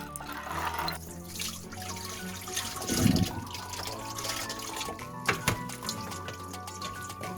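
Seaweed and oysters are swished and rinsed in a sink of lightly salted water, with splashing, pouring and trickling sounds that rise and fall, including a louder slosh near the middle.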